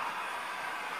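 A Roco model 231 E steam locomotive runs around a layout track with 360 mm curves, giving a steady, even rolling whir with no pauses.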